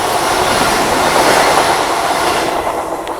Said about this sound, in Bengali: মারাত্মক স্পিডে ওভারটেকিং হচ্ছে দেখো রাউরকেল্লা বন্দে ভারত এক্সপ্রেস